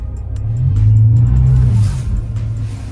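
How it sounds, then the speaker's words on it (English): A BMW M5 E60 pulls out of a driveway with its tires spinning, giving a steady close engine roar that swells and eases, with scattered faint clicks and scrabbling over the low drone. "the tires are absolutely spinning right now"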